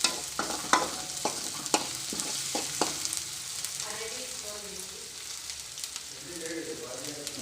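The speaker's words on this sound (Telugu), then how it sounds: "మంచిగా ఫ్రై అవుతుంది కదా." Potatoes fry in a pan for a curry while a spoon stirs them, giving a steady close sizzle with sharp scraping clicks early on that settle into a softer, continuous crackle.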